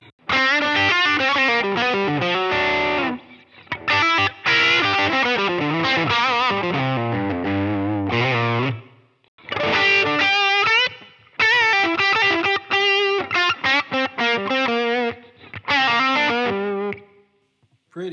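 Electric guitar through a Line 6 Helix amp modeler with reverb, playing loud, distorted melodic phrases with short pauses between them and notes ringing out into the space.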